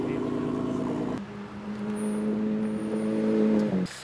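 A McLaren 600LT supercar drones at steady revs, its engine note stepping down after a gear change and then rising again as it pulls away nearby.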